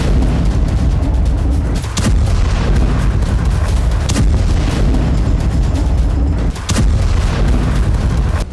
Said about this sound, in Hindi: हाइफा में भी हमास ने कई रॉकेट दागे